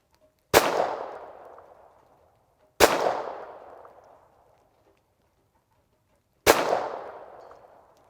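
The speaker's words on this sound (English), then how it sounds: "I'm going to go ahead and take a couple shots at 150 and see if we get the 150" Three sharp gunshots from a TX-22 training pistol fired at a 150-yard range target, each a loud crack with a ringing decay, spaced a couple of seconds apart or more, with quiet between them.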